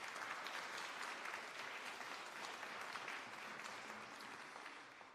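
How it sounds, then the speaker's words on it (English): Steady applause from a gala awards dinner audience, a dense wash of many hands clapping at once that holds evenly and then tapers slightly toward the end, heard from a distance and fairly quiet. "Can we give those a round of applause for making tonight possible?"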